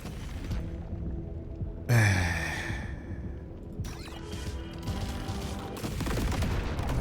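Gunfire in Deep Rock Galactic with oversized bullets: a heavy blast near two seconds followed by further shots and rumbling over a dense background din.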